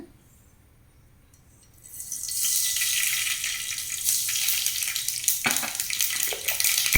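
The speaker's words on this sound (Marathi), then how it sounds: "फण्णाक आतां सासाम घालता" Mustard seeds, urad dal and fenugreek hit hot oil for a tempering, bursting into a loud, steady sizzle after a quiet start and crackling on to the end, with a few sharper pops.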